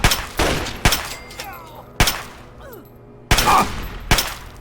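Hunting rifle shots in the video game Fallout 3: about six sharp, loud cracks fired in quick irregular succession, each with a brief ringing tail between them.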